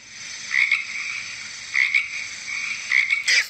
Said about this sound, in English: A frog sounds like this.